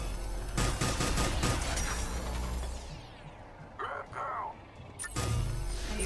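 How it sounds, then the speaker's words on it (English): Heavy, sustained gunfire from a big mounted gun in Mass Effect 3 pounds in rapid bursts with brief pauses, loud and close over the game soundscape, with a voice speaking briefly in between. "I think I'm getting shot at from more than one spot."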